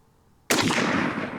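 A single close, loud rifle shot from a Zastava ZPAP M70 AK-47 with walnut furniture, breaking sharply out of near silence and leaving a long ringing decay.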